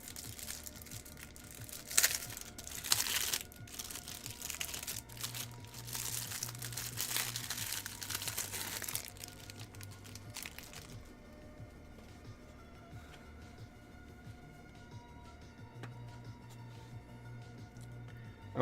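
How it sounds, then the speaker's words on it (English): Plastic packaging crinkles and rustles close by while a small screen for a KBDFans Athena 1800 keyboard is unboxed, with busy crackly handling for about ten seconds before settling into quiet. "Please ignore the crinkly sounds."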